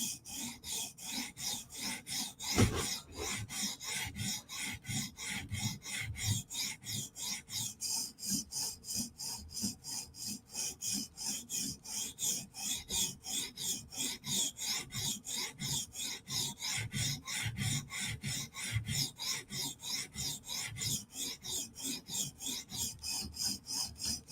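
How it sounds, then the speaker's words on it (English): A Chris Reeve Umnumzaan knife blade is sharpened with quick, steady back-and-forth rasping strokes on an abrasive, close and continuous throughout, with one sharp knock near the start. "Now we can sharpen."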